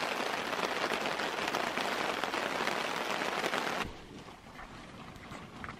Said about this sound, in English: Can see how hard the rain's coming down there.